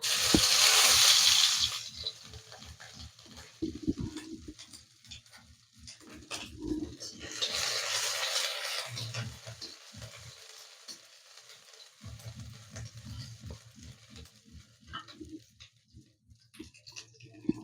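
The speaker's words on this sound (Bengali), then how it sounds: "গাজর ক্যাপসিকাম আর একটুখানি বিনস নিয়েছি এগুলোকে একটু হালকা ভেজে নেব" Carrots, capsicum and beans with chopped ginger being lightly fried in a pan, a soft sizzle with bursts of stirring and spatula scrapes that come and go, close by and moderately quiet.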